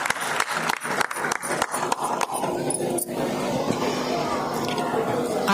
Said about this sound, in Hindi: जोरदार तालियां हमारी बहन की।